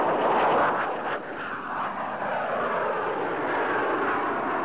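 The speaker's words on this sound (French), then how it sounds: "L'avion a quitté le sol, je rentre le train. Voilà, c'est fait. L'avion s'accélère rapidement." Dassault Balzac vertical takeoff jet accelerating after liftoff, a loud steady engine roar with a broad rushing whine that shifts slightly as it pulls away, no voices.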